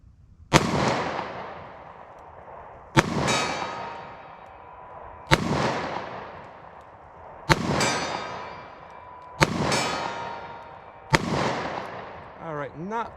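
Six sharp .38 Special +P pistol shots from a compact handgun, fired at a steady pace about two seconds apart, each a loud crack with a ringing decay outdoors.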